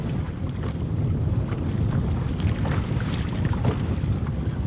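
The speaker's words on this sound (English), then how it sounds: "considering how windy it is." Strong wind buffets the microphone in a constant low roar on the coast of Breton Island, Louisiana, with gusty surges and a faint wash of water beneath.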